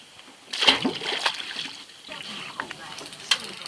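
A released gurnard fish from the Kaipara hits the water with a sharp, close splash, followed by a few softer sloshes and drips.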